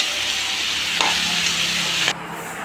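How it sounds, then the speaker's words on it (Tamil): Mushrooms lightly salted and sautéing in a pan on a home stove, a steady close sizzle with a stirring scrape partway through. "காளானை போட்டு லைட்டாக உப்பு போட்டு ஒரு வதக்கு வதக்கிட்டு மூடி வச்சிடலாம்."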